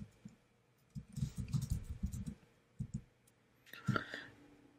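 Keystrokes tapped on a computer keyboard while typing into a Rails console, a quiet run of quick clicks followed by a pause and a few scattered later taps, with no talking.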